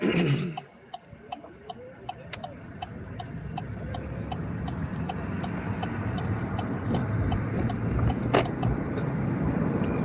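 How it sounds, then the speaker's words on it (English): Hybrid car running on its gasoline engine while driving, a steady low road and engine rumble heard from inside the cabin, with a regular ticking, likely a turn signal, throughout. "We have expended all of our electric miles, and we are running on gasoline right now."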